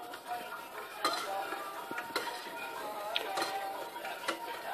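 Sugar, water and orange blossom water being stirred in a pot over heat: faint, close clinks and taps of a spoon against the pot at irregular intervals, over a low background hiss.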